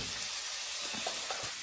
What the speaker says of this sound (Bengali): সবজি তো ভাজাই ছিল, তাহলে একটুখানি জাস্ট হালকা নাড়িয়ে চাড়িয়ে 2-3 মিনিট একটুখানি কষিয়ে